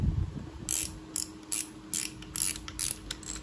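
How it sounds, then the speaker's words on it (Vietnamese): The clicker on a size 6000 China-made Legalit spinning fishing reel rattles in short bursts of rapid ticking, about seven separate runs with brief pauses between, close and crisp. "đây là tiếng lửa gà của con máy size 6 ngàn dòng Legalit hàng China xuất"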